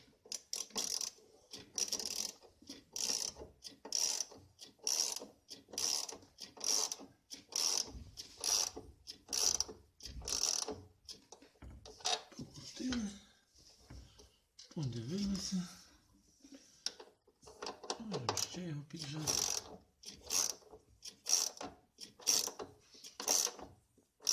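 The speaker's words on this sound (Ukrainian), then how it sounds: "беремо ключ накидний на 10 і будемо закручувати" A 10 mm ring spanner ratchets in rapid repeated clicking bursts while tightening bolts on a Samsung washing machine heater element in a plastic housing, close up, with someone speaking in between.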